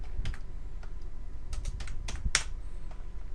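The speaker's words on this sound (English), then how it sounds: "I'm going to type in" Close computer keyboard typing, a short burst of scattered clicks and keystrokes in a quiet room, alone without voices.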